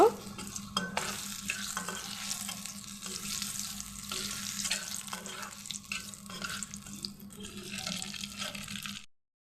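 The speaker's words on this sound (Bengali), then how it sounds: "3টে শুকনো লঙ্কা আমি দিয়ে দিচ্ছি, তার সাথে দিয়ে দিচ্ছি 5 ফোড়ন। একটু ভালো করে ভেজে নেব।" Dried red chillies and Bengali five-spice seeds fry in hot oil in a pan, giving a steady close sizzle with scattered crackles and stirring scrapes that run unbroken for several seconds, with no talk.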